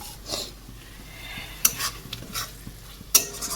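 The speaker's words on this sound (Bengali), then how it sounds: "মশলাটা কষানো হচ্ছে" Spice masala being sautéed in a pan for a pabda and bhetki fish curry with potatoes, with a steady low sizzle and a few sharp scraping clinks of a spatula against the pan; no talking.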